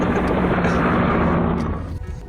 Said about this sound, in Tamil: நம்மளுடைய ஹெலிகாப்டர் டேக் ஆஃப் ஆக ஆரம்பிச்சிச்சு.